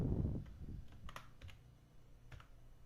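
Sparse keystrokes as a password and captcha are typed on a computer keyboard, a few scattered clicks over a low background hum.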